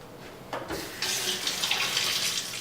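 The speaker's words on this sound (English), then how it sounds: "So I'm just gonna put a little bit of water in my blender." Water poured into a blender jar, meant to thin a soy milk and fruit smoothie, with a steady splashing, trickling stream that starts abruptly and runs on continuously, close and fairly loud with no voices.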